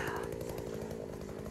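A Takyo TK2.5B petrol earth auger drills diameter-15 planting holes for durian trees in an orchard in Binh Phuoc, southeastern Vietnam. Its engine gives a loud, continuous, buzzing two-stroke drone, close by and without pause.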